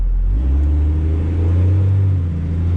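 Second-generation Cummins 12V diesel pickup truck accelerating hard on a quarter-mile pass with the lockup switch engaged, a loud, deep, steady engine drone heard from inside the cab, no talking.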